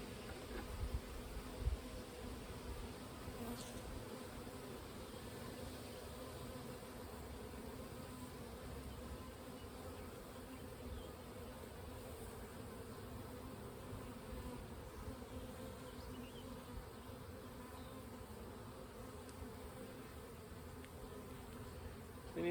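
Honey bees buzzing steadily in a 5-frame nuc hive, a constant low drone of many insects close by, faint and unbroken with occasional light knocks.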